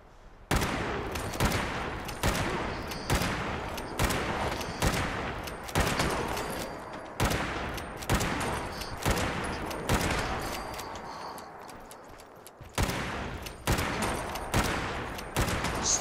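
Lever action rifle gunfire from Fallout 76, a quad fire-rate weapon, with roughly a dozen loud, sharp shots spaced about a second apart, with brief gaps between bursts and no talk.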